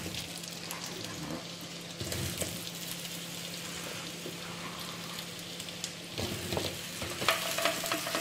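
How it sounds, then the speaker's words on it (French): Quarters of apple frying in hot butter over a fairly high flame, a continuous close sizzle with bursts of stirring and pan scraping, no one speaking. "Une fois que le beurre est chaud, on va faire revenir les pommes"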